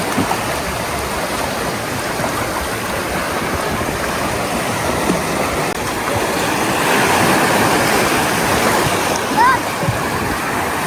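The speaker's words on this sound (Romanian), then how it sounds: "Relaxare pe malul mării." Steady rushing surf washes continuously against the Black Sea shore at Mamaia Nord, Constanța, a dense broadband roar with gentle swells and no pauses.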